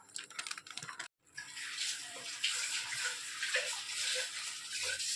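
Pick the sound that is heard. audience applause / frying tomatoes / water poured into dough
water poured into dough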